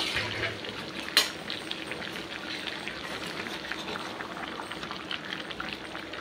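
Mutton braises in its own juices on a medium flame under a plate lid, with no extra water added. Faint, even bubbling and soft sizzling continue steadily, with one brief knock early on.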